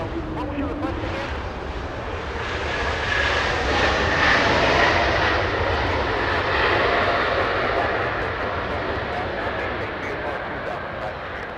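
Near a runway at LAX, a small Delta Airlines A319 rolls along the taxiway, a steady engine rumble building slightly in the middle and then settling, at moderate distance.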